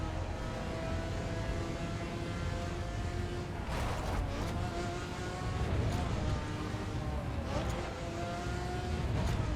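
A car engine drones steadily while driving, rising in pitch as it accelerates, with a constant loud road and engine roar throughout.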